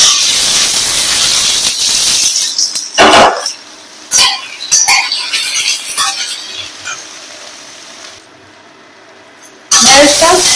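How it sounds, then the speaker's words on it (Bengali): Potato and okra drop into hot oil in a kadai and fry with a loud, steady hissing sizzle. It breaks off briefly, thins out for a stretch, then surges back near the end, with occasional clinks of stirring. "কড়াই তেলটা গরম হয়ে গেছে, এর মধ্যে আমি এবার আলু আর ঢেঁড়সটা দিয়ে দেব"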